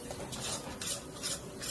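Ground coriander, cumin and garam masala stirred in a pan over low heat, a soft rhythmic scraping of a spoon against metal repeating about every half second.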